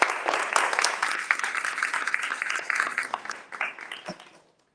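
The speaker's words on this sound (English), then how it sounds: "A round of applause once again for Hope Raymond." A book conference audience gives a round of clapping, dense at first and then thinning into scattered claps before fading to silence near the end.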